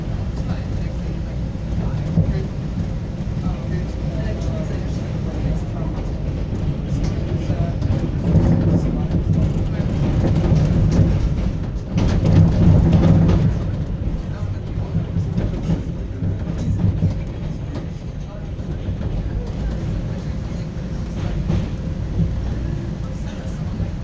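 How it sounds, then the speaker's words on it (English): Riding aboard a CTA Green Line Bombardier 2009-series elevated train: a continuous low rumble and rattle of the car that swells louder around the middle before settling back to a steady roar. "It's a train."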